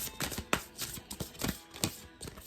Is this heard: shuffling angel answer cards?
yes